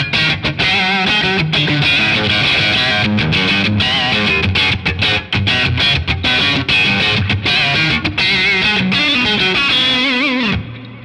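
A guitar runs through an Origin Effects Revival Drive Compact overdrive pedal set to its twin reverb voicing. It plays loud, continuous, driven chords and notes on its own for about eleven seconds.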